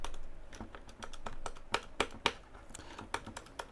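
A slightly stiff keyboard key is pressed down hard again and again, giving a string of close, dry clicks with a few sharper, louder presses in the middle. No one speaks.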